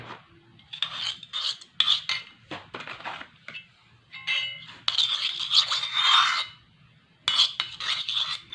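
A hair dye paste being stirred and scraped in a bowl, giving gritty rubbing and rasping strokes in uneven bursts with short pauses, close and fairly loud with no talking.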